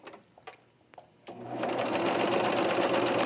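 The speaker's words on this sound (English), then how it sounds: "let's go to the cover stitch machine" A cover stitch machine runs steadily, hemming fabric for a wrap dress with a continuous fast whirring hum after a few soft handling clicks and rustles, close and loud.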